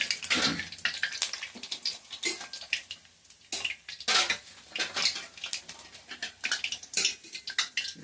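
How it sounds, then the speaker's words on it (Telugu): Clattering metal and rustling scrapes as fried boondi is tipped and shaken into a strainer bowl, bursty and close, with no talking. "ఒక జల్లి గిన్నె కింద ప్లేట్ పెట్టుకొని మంచిగా జల్లి గిన్నెలోకి వేసుకుంటే"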